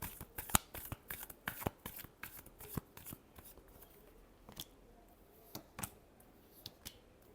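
Tarot cards being shuffled by hand in a quiet room, a run of crisp riffling snaps and flicks in uneven bursts, loud and close at first and then sparser, with no talking.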